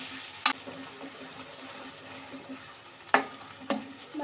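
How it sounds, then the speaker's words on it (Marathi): A masala of coconut, tomato and onion sautés in a pan with a soft continuous sizzle, broken by a few sharp clicks of a utensil stirring against the pan. "मसाला छान पैकी परतून घेऊया."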